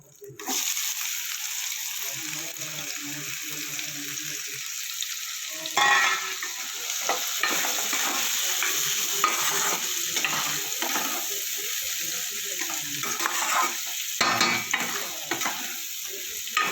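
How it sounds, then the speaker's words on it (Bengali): Chopped onions hit hot oil with whole garam masala in a pan, giving a loud, steady sizzle that runs throughout, broken by scraping stirs and clattering spoon strokes up close. "এবার দেবো কুচনো পেঁয়াজ।"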